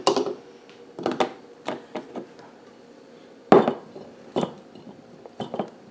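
Irregular knocks and clunks of onion quarters and a carrot dropping into a glass canning jar for a raw-packed dry-canned soup starter, close-up, with a louder thud midway and quiet gaps between.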